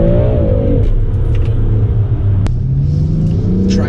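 A BMW M3 on winter tyres, in manual with Sport Plus engine mode and traction control fully on, accelerates through snow; a loud, close engine drone rises steadily in pitch with a low rumble beneath and no talking.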